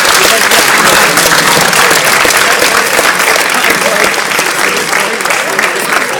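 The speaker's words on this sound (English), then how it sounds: "they're going to clap their hands really, really hard" Hypnotist's audience claps their hands very hard, a loud, dense and sustained roar of clapping with voices mixed in.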